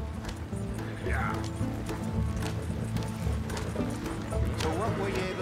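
Horses gallop in Red Dead Redemption 2, their hooves pounding in a fast, rhythmic clatter under the rumble of wheels while people talk over it.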